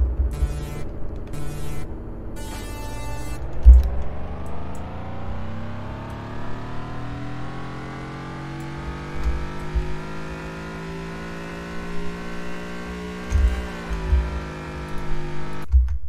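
A Polaris ATV engine in the video game Car Dealership Tycoon revs up in a long rising whine that climbs steadily and then holds, with faint keyboard clicks scattered on top and no talking.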